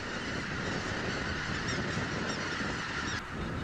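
Greater white-fronted geese honking at night as birds are netted for banding, a dense flock chorus of overlapping calls holding steady and loud throughout.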